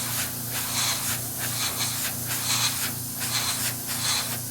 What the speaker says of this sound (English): just making sure my airbrush has got my flow going and my color is coming out